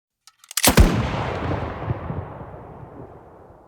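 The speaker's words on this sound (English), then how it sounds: "Just this sniper shot here, which I'll let you hear the final version of now." Redesigned sniper rifle gunshot for Battlefield 2042 Hazard Zone: a few small clicks lead into one sharp, loud blast, followed by a long rumbling tail that fades out over about three seconds.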